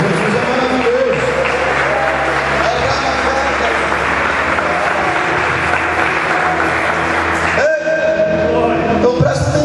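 Church congregation applauding at an evangelical service, a dense, steady wash of clapping filling the room for most of the clip, with voices mixed in and a brief dip near the end before the noise resumes.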